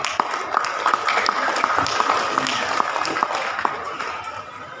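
An outdoor crowd at a Betawi festival celebration applauds for a pesantren group, with dense, sustained clapping and sharp individual claps standing out, voices audible beneath.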